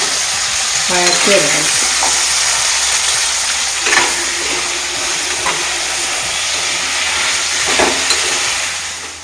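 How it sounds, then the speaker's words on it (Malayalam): Whole gooseberries fry in hot oil under steady stirring, a continuous close sizzle broken by a few louder scrapes and bubbling bursts, with no talk. "അതിൻ്റെ ഒന്ന് സോഫ്റ്റ് ആവാൻ വേണ്ടിയിട്ട് നമ്മളൊന്ന് ഇളക്കി കൊടുക്കും"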